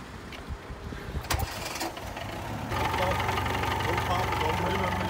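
A Fiat 131 started by remote control settles into a steady low idle, the engine hum growing louder and fuller partway through, with background chatter and a couple of sharp clicks early on.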